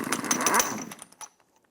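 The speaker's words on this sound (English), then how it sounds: "Using a 36mm socket, remove the axle nut." A power impact tool with a 36mm socket spins off the axle nut on a 2003-2007 Infiniti G35, a loud, close, rattling burst of under a second that winds down with a few trailing clatters.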